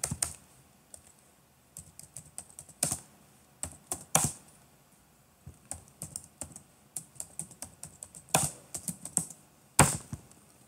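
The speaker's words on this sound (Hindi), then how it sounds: "दोबारा टाइप कर लेते हैं।" Keys clatter on a laptop keyboard in quick irregular bursts, with short pauses between runs and a few louder presses, close and clear with no voices.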